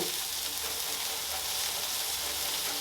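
Smash burger patties sizzle steadily on a Blackstone griddle, a continuous close hiss of frying fat that holds at an even level throughout with no talking.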